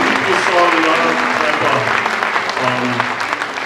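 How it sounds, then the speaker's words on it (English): Concert audience applauding during a performance, a steady round of clapping with some talk mixed in underneath. "give him a round of applause"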